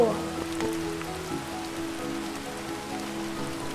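Steady rain falls on a surface in a continuous, even hiss with no talk over it, with a low tonal hum running underneath.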